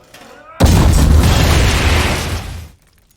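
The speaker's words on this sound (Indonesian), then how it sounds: "mulai dari melempari granat" A grenade explosion in a film scene erupts as one sudden, loud, rumbling boom that sustains for about two seconds before cutting off, with faint sounds just before it.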